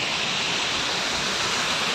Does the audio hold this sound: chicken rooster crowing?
no